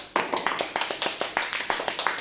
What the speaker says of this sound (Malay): saya nak semua tepuk tangan untuk Bayaki sekarang.